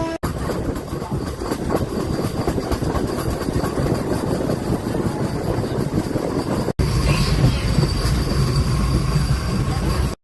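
A MEMU passenger train on the Guntur to Vijayawada line rolls along the track toward Nambur station, heard from on board as a loud, steady rumble with rhythmic wheel clatter and squeal that continues without pause.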